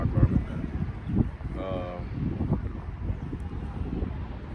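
Strong outdoor wind buffets a microphone at a campsite, making uneven low rumbling gusts that rise and fall throughout.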